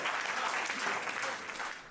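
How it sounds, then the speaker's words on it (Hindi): An audience at a Hindi kavi sammelan poetry gathering breaks into loud, sustained applause to welcome a poet, dense clapping filling the whole moment before tapering slightly at the end. "जोरदार तालियों के साथ"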